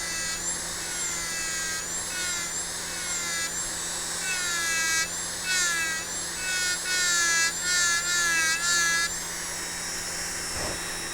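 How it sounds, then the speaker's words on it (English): Rotary burr engraving a glass vase, a high thin whine that wavers and shifts pitch continuously as the tool presses and lifts, close and steady for the whole stretch. "you engrave the claw deeply on top of that, but you can go back over and over again and make more shading if you like"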